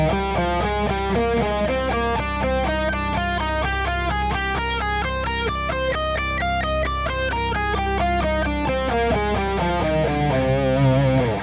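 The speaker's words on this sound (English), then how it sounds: "So I'm going to start the scale with the thirds." A scale played in ascending thirds and then descending, a steady run of evenly spaced notes stepping up and back down, distorted and sustained, with no talking.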